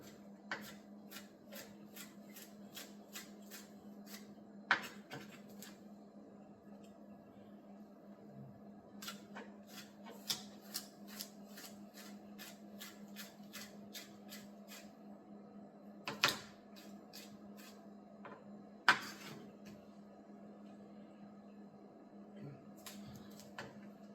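A knife chops onion, green onion and pepper on a cutting board in quick, quiet, regular taps, broken by a few short pauses and several sharper knocks.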